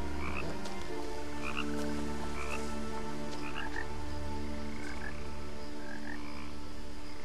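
Repeated croaking calls from a frog-like dragon-snake creature in the video game What Remains of Edith Finch, spaced in short bursts throughout over a steady low ambient drone and music bed, with no speech.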